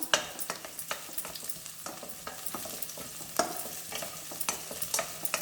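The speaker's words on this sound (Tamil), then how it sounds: "இப்போ தேங்காய் அரைச்சது ஊற்றலாம்." Ground coconut paste is poured into a simmering appalam gravy and stirred. It gives a steady, close sizzle with frequent scraping and clinking spoon strokes against the pan.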